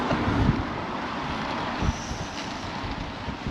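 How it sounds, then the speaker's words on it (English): Strong wind gusting at Port de Sóller, Mallorca, a loud continuous roar buffeting the microphone with a couple of heavier gusts, no voices. "look at the wind"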